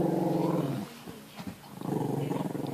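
A dog growls low and continuously, close by, with a short break in the middle before the rumbling growl resumes.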